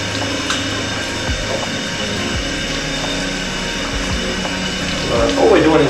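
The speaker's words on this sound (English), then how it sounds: "So all we're doing is washing the hairs of the corn off there." Tap water running steadily into a sink while corn cobs are washed of their hairs, a constant close hiss that swells slightly at the end, with talking over it.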